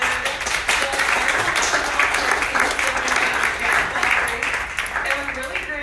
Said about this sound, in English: everyone stare at him and give him a ton of claps